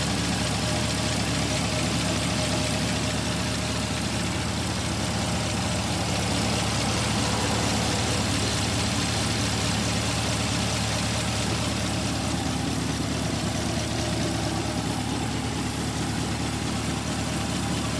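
A 2020 Corvette C8 Z51 with a 6.2-liter V8 and dual-clutch transmission idles in a steady, unbroken low drone that holds the same level throughout, with no talking.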